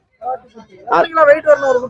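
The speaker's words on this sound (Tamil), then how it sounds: "ரெண்டும் ஒரே ஆட்டுக்குட்டி" Goat kids bleating at a goat market in Kunnathur, a few wavering calls rising in the second half of the clip, following and overlapping a voice nearby.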